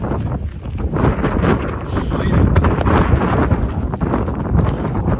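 Strong, cold, gusty wind buffeting the microphone on a sunny day, a steady rumbling roar with no voices.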